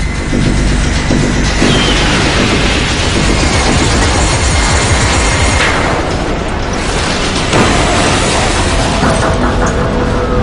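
A low-flying airplane heads toward trees just before crashing, a loud continuous roar of engine and rushing noise that stays dense and heavy throughout, with no talking.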